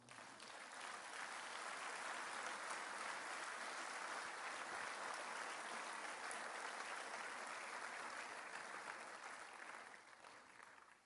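A church congregation applauds mothers in a long, even burst of clapping that holds steady and begins to taper off near the end, fairly distant and soft.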